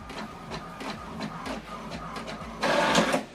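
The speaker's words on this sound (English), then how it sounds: "Now what it's doing now is printing the welcome information that I sent to this printer." An HP Deskjet All In One inkjet printer printing a page, with a rhythmic mechanical whirring and clicking of the print head passing back and forth, then a louder burst of paper feed noise near the end.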